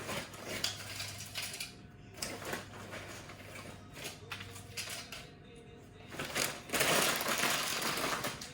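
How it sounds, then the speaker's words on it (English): Tortilla chips being crushed in a food processor in a home kitchen, with bursts of crunchy rattling and clattering at close range, the loudest and longest burst coming near the end. "gonna take a food processor, whatever you want to call it"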